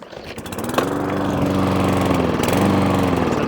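A surging lawnmower engine starts while its fuel primer is pumped, catching with a rough burst and then running loud and close with a steady droning pulse and slight rises and dips in speed.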